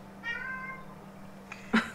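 A cat meows once, a drawn-out call with a rising and falling pitch, fairly close and clear, heard over a steady low background hum, followed by a brief rustle and a sharp click.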